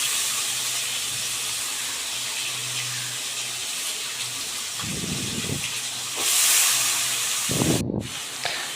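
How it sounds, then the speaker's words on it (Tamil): Potatoes sizzling as they fry in oil for a Tamil-style potato fry, a steady broadband hiss with a louder burst of spattering near the end, no voices. "எண்ணெயிலே கொஞ்சம் ஃப்ரை பண்ணணும்"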